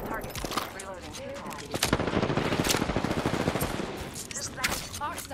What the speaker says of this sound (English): They're shooting another team.